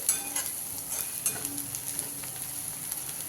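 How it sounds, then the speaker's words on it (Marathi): Eggplant bharit mixture with turmeric and oil sautéing in a pan, a bright continuous sizzle with a few spoon scrapes and stirring knocks, close and steady for a few seconds. "थोडं आपण अजून परतून घेऊयात"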